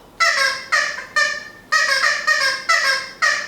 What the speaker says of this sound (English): Oh, it's Noisy Chicken again.